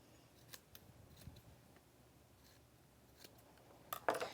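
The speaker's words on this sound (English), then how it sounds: "And then you're going to snip off the extra." Scissors cutting off excess fabric while sewing a steampunk-style garment, a few soft snips scattered across a quiet room with one sharper, louder cut near the end.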